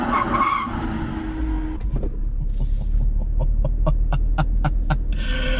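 A sixth-generation Chevrolet Camaro SS brakes hard during a 75 mph stop test, its tires skidding and squealing in a harsh rasp, then rhythmic thumping as the car slows, loud and close.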